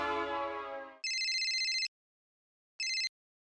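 A phone in a Taarak Mehta Ka Ooltah Chashmah scene plays a ringtone: a descending tonal flourish, then a bright electronic ring that stops, and a shorter second ring after a silent gap. It sounds clean and close, with no talking.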